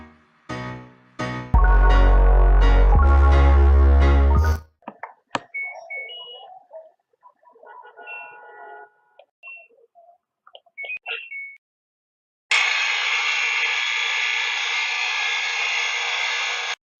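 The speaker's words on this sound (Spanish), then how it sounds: "Este ruido tan molesto lo está produciendo la bomba de tu lavadora." Drain pump of an LG washing machine during the spin cycle, suspected of holding a foreign object in its filter, gives a steady loud whirring hiss that starts abruptly near the end, after music and scattered clatter.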